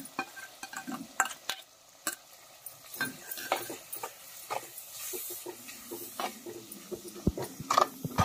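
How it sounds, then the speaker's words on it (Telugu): Onion and green chilli paste frying in oil in a pot, with soft sizzling under repeated stirring clinks and scrapes of a utensil against the pan, close and moderately loud, no talk. "ఇందాక పట్టుకున్న పచ్చిమిర్చి ఉన్న ఉల్లిగడ్డ పేస్ట్ కూడా ఇప్పుడు వేసుకోవాలి, ఎందుకంటే ఇది మంచిగా ఆయిల్ డీప్ ఫ్రై కావాలి కదా."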